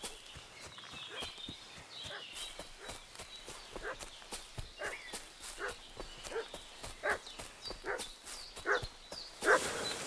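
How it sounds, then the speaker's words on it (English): Dog barking repeatedly in the medieval open-world game Kingdom Come: Deliverance II, sharp mid-distance yelps recurring over a background of hoof clip-clops and footsteps, no talk. "What's that dog making such a fuss about?"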